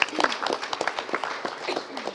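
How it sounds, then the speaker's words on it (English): An audience claps in applause for a speaker at a public policy leadership event: a short burst of quick, uneven clapping that stays moderate and close. "give her a round of applause, please."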